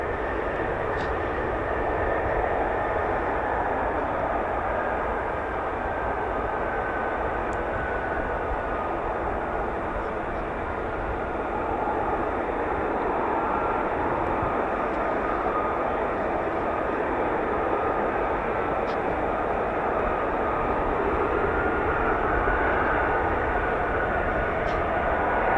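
An F-35B stealth fighter jet taxis with a continuous broad roar and whine, steady and moderately distant, holding level for the whole stretch with faint background noise.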